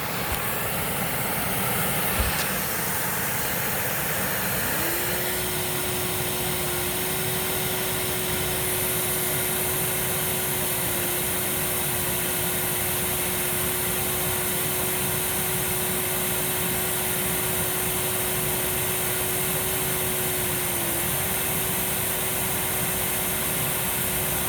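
A Miele Swing H1 vacuum cleaner runs continuously at close range, a loud steady roaring whoosh with a sustained motor whine, unbroken for the whole stretch.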